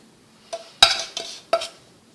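Grated coconut and white chocolate mixed in a bowl: four distinct scraping, clinking strokes of a utensil against the dish spaced about a third of a second apart, close and clear against near silence.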